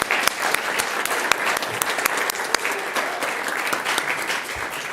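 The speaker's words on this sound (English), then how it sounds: "one more round of applause?" Sustained applause from an audience honoring students and teachers at a school governing board meeting, dense steady clapping throughout with a few sharper individual claps.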